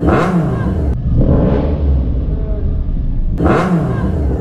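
New Triumph Street Triple motorcycle engine revving hard close by, loud and continuous, with rising and falling revs and sharp throttle blips at the start and end.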